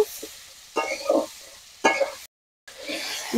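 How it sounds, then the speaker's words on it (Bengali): Shol fish curry with mango and a spoonful of sugar is stirred in a hot pan, producing close sizzling and scraping bursts separated by short pauses and one brief silent break. "উপর থেকে দিয়ে দেবো 1 চামচ চিনি, দিয়ে ভালো করে নেড়ে নেব।"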